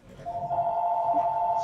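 A telephone rings indoors, giving one steady tonal ring that sounds moderately close and continues to the end, over faint room noise.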